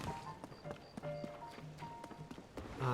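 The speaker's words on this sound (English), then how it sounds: "It's Lester with the horses" Horse hooves clip-clop in Zelda: Tears of the Kingdom, a quick run of light game footfalls with chimes and tonal music layered over them.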